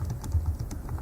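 Quick, soft keystrokes tap on a computer keyboard in a short close burst, with no voice over them.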